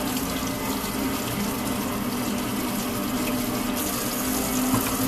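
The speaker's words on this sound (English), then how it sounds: "I like to rinse out my potatoes because I don't like the dirt" Tap water gushes steadily into a sink while potatoes are rinsed, a loud continuous stream with no break.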